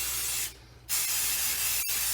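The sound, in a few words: light spray of mold release on mask rubber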